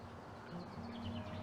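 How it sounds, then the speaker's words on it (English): Robin and blackbird sing in a cemetery, their faint, distant chirps and short phrases rising over a low, steady background rumble. "You can hear the blackbird and the robin."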